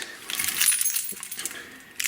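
An everyday-carry keyring with a small Spyderco knife attached jangles softly up close in brief metallic clinks and rattles, with no talk.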